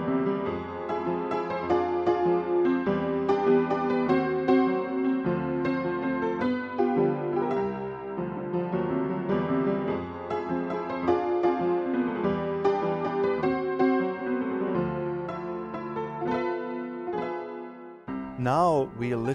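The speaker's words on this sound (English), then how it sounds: "Now we have asked our piano tuner to detune our upright piano in the style of an honky-tonk" A detuned upright piano in honky-tonk style plays a dense, lively passage of chords and melody, loud and continuous for most of the clip, with a brief clattering swirl of sound near the end.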